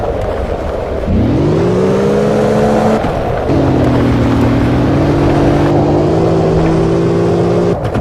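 Engine of a VAZ 2108 in the Russian Car Driver driving game revs steadily, pitch sliding up and settling across several gear shifts, loud and continuous with no talk.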